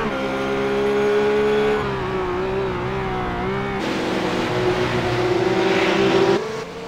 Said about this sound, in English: 280 odd kilometres an hour these guys are going, coming in through the chase.